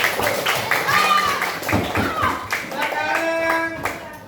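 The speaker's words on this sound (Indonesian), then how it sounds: "Tepuk tangan untuk kelompok 4. Dan tepuk tangan yang meriah untuk semua temanmu yang maju ke depan." Schoolchildren in a fifth-grade primary classroom clap for a group of classmates, a dense ripple of close applause running throughout with a teacher's voice and children's chatter mixed in.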